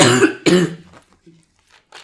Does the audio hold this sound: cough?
yes